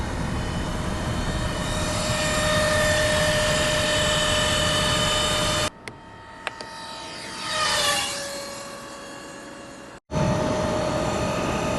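A Talaria xXx electric dirt bike races by fast in sport mode, a loud steady whine and rush that briefly cuts out, then swells as it sweeps past, with wind noise throughout.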